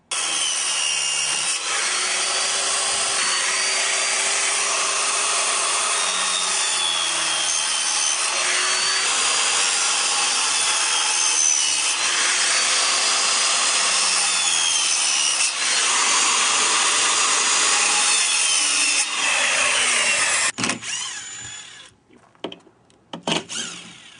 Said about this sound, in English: That'll tell me exactly where to do my saw cuts.